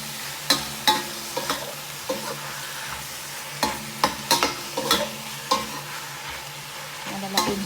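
Beef heart sautés in a pan with a constant loud sizzle, broken by repeated sharp clacks and scrapes of a spatula stirring the meat at uneven intervals.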